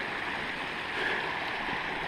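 Steady rushing and gurgling of a clear creek flowing beside a hiking trail near Zion and Bryce, a constant moderate wash of water with no voices.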